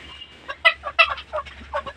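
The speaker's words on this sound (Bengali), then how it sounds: "আর এই পাশে আছে আমার নতুন গ্রাম মুরগিটা" A village hen clucks in short, uneven bursts close by, with several distinct calls over two seconds and a low steady hum underneath.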